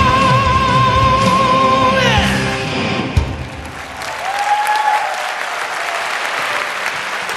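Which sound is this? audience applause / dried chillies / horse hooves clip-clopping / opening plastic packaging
audience applause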